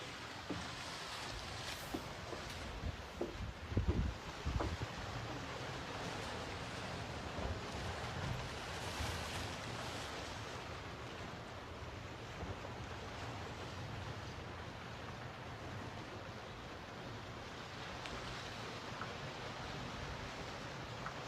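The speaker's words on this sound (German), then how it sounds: "wenn wir ganz leise sind, hören wir auch die Ostsee rauschen" Baltic Sea surf rolls in at a distance beneath an apartment terrace in Sassnitz, a steady soft wash of waves with faint wind noise running unbroken, a few small bumps early on and no talking.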